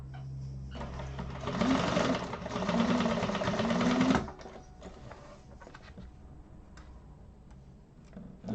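A sewing machine stitches lines to secure the tab on a Penny Inn wallet, running in a steady rapid hum for a few seconds near and clear, then stopping, with light ticks and handling sounds afterward.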